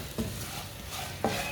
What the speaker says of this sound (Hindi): 1 मिनट के लिए पका लेंगे मसालों को।